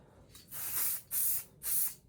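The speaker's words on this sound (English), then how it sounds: "give this a quick spray down" Three short hissing bursts of an aerosol spray, close and sharp, separated by brief pauses.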